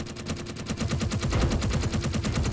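Rapid automatic gunfire in the video game Space Engineers rattles continuously in a steady, fast rhythm, loud and dense throughout with no talk.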